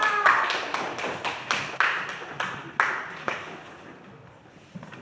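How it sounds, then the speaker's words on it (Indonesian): Students in a high school Islamic jurisprudence class clap their hands in a classroom, giving about ten sharp, evenly spaced claps that die away into a quiet room, with faint voices underneath. "Tepuk tangan untuk kita."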